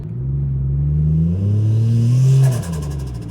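A motorbike named Chaser, fitted with a J-pipe exhaust, rides gently through town. Its loud, close engine note rises and swells, then drops off with a crackling burble as the throttle eases.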